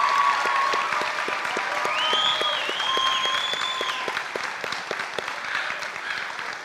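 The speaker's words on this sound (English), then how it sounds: "I think that deserves another round of applause." Audience applause at a high school scholarship ceremony, a dense, sustained round of many hands clapping steadily in a hall, loud and even with a few cheers on top.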